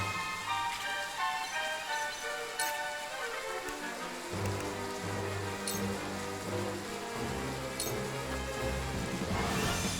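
Steady rain hiss in a video game, falling continuously over layered ambient music and tones with a few sharp chime-like accents, no voices.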